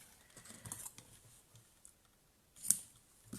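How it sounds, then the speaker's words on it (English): A handheld paper craft punch snaps through paper with a few faint, scattered clicks, one sharper snap standing out in an otherwise quiet room. "And I'm going to punch again."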